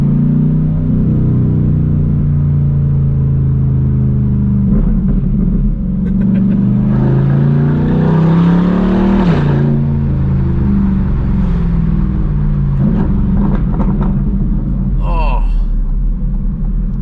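A Chevrolet C8 Corvette's loud exhaust rumbles and revs up close, climbing through gears with crackling throttle blips, and someone talks over the engine noise.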